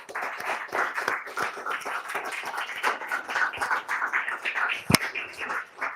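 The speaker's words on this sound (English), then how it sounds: "if we could get a big round of applause for Zenus Bear" An audience at a legal summit applauds a speaker, moderately loud clapping with uneven swells and one sharp crack near the end.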